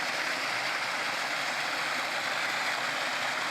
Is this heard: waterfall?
yes